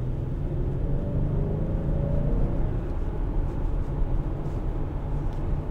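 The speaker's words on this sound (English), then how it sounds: "We're gonna see if we can go ahead and get it up to speed here." A 2019 Acura RDX SH-AWD with a 2.0-liter turbo four-cylinder accelerating, heard from inside the cabin as a steady, loud low rumble of engine and road noise.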